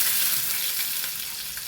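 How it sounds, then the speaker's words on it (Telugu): Curry leaves and Kashmiri dried red chillies frying in hot oil for a Kerala fish curry, giving a steady, loud, close hiss and crackle that carries on without pause and with no voices. "కరివేపాకు, ఎండుమిరపకాయలండి, అది కాశ్మీరీ చిల్లీ అనమాట. ఇవి బాగా వేపాలండి."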